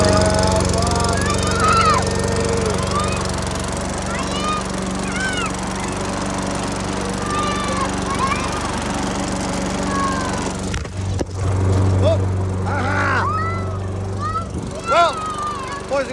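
A lawn mower engine runs steadily after a carburetor rebuild, a loud, continuous close drone that holds the whole time while people talk over it.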